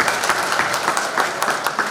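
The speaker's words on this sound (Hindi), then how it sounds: "इस बात पे जोरदार तालियां हो जाएगी।" Crowd at a transporters' meeting bursts into loud, dense applause, a continuous close wash of many hands clapping throughout.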